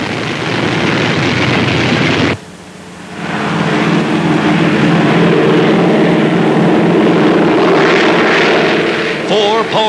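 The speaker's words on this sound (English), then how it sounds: "Four powerful engines lift the Sky Giant aloft." Lockheed Constellation four-engine propeller airliner flying, a loud steady droning roar with a brief dip partway through, then swelling back to a full, continuous engine rumble.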